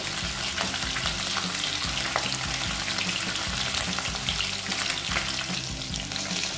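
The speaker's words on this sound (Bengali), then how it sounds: "মাছটা একটু কড়া করেই ভেজে নেব।" Rohu fish fries crisply in hot oil with a dense, continuous sizzle and bubbling crackle. The sound is close and busy throughout, and no one talks over it.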